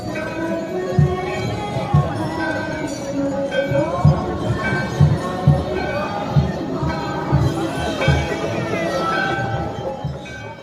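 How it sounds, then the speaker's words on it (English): Thousands of devotees at Kedarnath temple fill the air with a dense roar of cheering and chanting voices, punctuated by rhythmic, repeated loud accents, close and sustained throughout. "You can see the crowd over here, thousands of devotees cheering."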